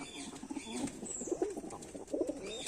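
A black male pigeon coos in low, throaty bursts close by, two or three rolling calls separated by short pauses, with light rustling around it.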